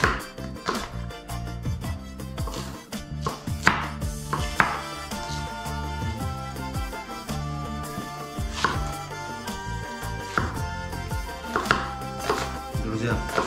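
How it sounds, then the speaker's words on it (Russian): Onion is sliced into half rings for a kefir shashlik marinade, with repeated knife thuds on a board in an uneven rhythm over background music. "режем наш лук на полукольца"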